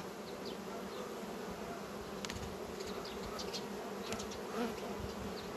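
Honey bee colonies hum at their hives in an apiary, a dense, continuous buzzing that stays steady throughout, with a few individual bees passing closer to the microphone.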